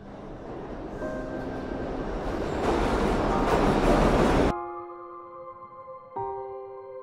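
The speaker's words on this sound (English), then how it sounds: "My train is here." A train in a 2D animated short rumbles closer, swelling into a loud roar before giving way to a steady tonal hum with a brief squeal near the end.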